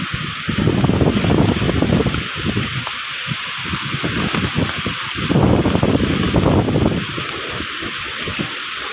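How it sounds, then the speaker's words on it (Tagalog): Powerful typhoon gusts blast along the seashore in Samar, a continuous roar of wind and surf with repeated swells in intensity and heavy mic buffeting throughout. "ang lakas ng hangin."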